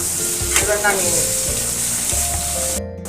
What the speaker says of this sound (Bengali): কাঁচা গন্ধটা না যায় ততক্ষণ পর্যন্ত ভাজতে হবে।